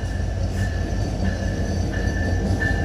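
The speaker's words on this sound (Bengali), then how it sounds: "রাত 2:23 নাটোর রেলওয়ে স্টেশনে একটি ট্রেন প্রবেশ করছে, মিটার গেজের ট্রেন।" Meter gauge train entering Natore railway station at night, a steady heavy rumble with a faint recurring high whine, no voices.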